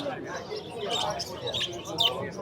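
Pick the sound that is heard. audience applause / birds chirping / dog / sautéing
birds chirping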